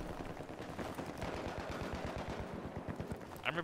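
Rapid automatic fire from an M416 assault rifle in Battlefield 3, a fast steady stream of sharp close shots lasting several seconds, loud and continuous with a brief burst of higher rattling at the end.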